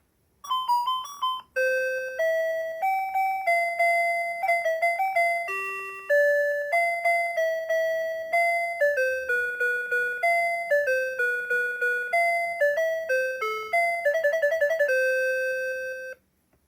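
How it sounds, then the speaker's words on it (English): A 1979 Sharp Talking Time talking clock's alarm plays a melodic electronic tune of clear bell-like tones in a repeating pattern for about fifteen seconds, then stops. "And there you have it. There's the alarm."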